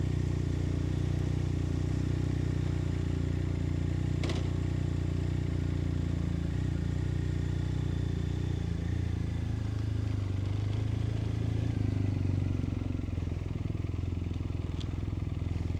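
BMW R1250RS motorcycle engine with about 8,000 km on it, idling quietly with a steady low, smooth hum throughout, close by, alongside faint background noise.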